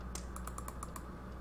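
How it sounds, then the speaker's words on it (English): Rapid mouse clicks while playing the adventure game Gobliins 2 on a computer, a fast burst of about eight sharp taps over steady background hum, close and fairly clear, with no talking. "I'm sure you guys can hear me clicking like crazy."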